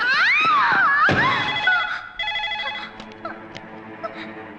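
In a film scene a telephone rings with a warbling electronic trill up front, then fades into busier tonal sound and soft background noise.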